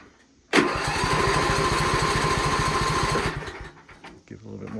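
A small engine catches and roars into life with a sharp start, then runs loud and steady with a chugging rhythm before dropping back to a lower idle.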